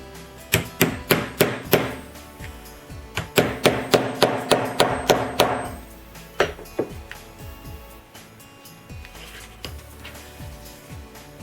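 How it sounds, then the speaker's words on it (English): Two bursts of rapid, sharp hammer blows, about six strikes each, ring out close by as a snap button is set on a ribbon cuff bracelet, followed by a few scattered lighter taps. "and then you take a hammer"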